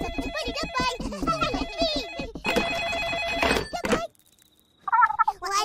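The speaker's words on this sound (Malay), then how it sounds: "Telefon." A telephone rings in an animated children's cartoon, its electronic bell trilling in repeated bursts amid busy background music and sound effects, with a short quiet gap before a voice.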